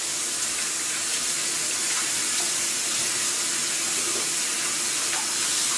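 Steady running water from a tap during handwashing at a sink, a continuous even hiss that holds from start to finish, close and alone with no talk.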